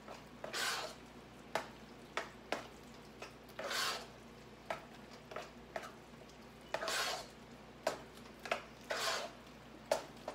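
Corned beef with sazon and onions being stirred in a pot, giving repeated scraping, swishing strokes in bursts with short pauses, close and moderately loud over a faint background hum.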